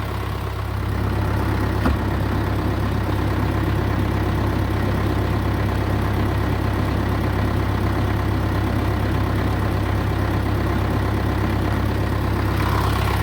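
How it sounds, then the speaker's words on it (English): An old tractor engine idles while warming up, a steady low droning hum that holds constant and close with no change in pace. "let the tractor warm up"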